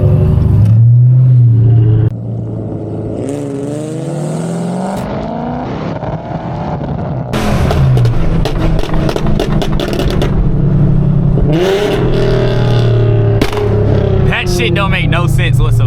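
Loud tuned exhausts from a Scat Pack and a flame-tuned G37 rumble and rev while driving downtown, a deep steady drone with sharp bursts and crackles, heard from inside the car as people talk over it.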